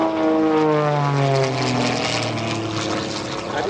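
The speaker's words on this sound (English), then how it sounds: "So Jeff will come across the top here, put that airplane down and do a roll on this downline." A propeller aerobatic airplane performs at an airshow, its engine droning loudly with a clear falling pitch sweep as it passes overhead, steady and close throughout.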